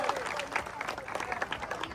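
Dense applause from a crowd for a Govinda troupe forming a seven-tier human pyramid in Ratnagiri, steady and fairly loud throughout, with some voices mixed in underneath.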